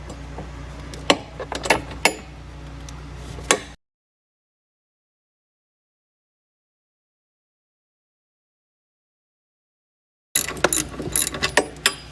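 A ratchet works the nuts off the rear shock bolts of an ATV, short bursts of close pawl clicking and metallic clatter, then a long silent gap before more clicking resumes.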